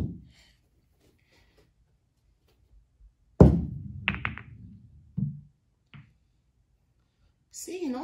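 Striped and solid balls in a tabletop ball game knock together in a few sharp, close clacks and thunks separated by quiet pauses, with soft voices nearby.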